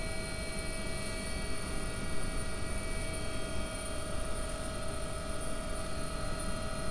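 AW-139 helicopter in X-Plane 11, air ambulance approaching a landing pad in gusty wind, with a steady continuous rotor and turbine drone and strong tonal whine layered over broadband noise, holding constant throughout.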